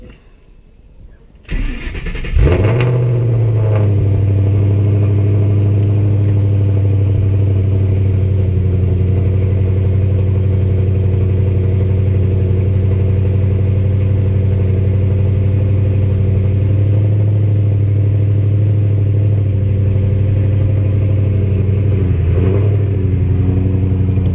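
A 700whp Ford Shelby GT500 cold starts with a brief starter whir, then its engine catches with a loud bark and settles into a steady, deep, lumpy idle that runs on for about twenty seconds, close and with no talk.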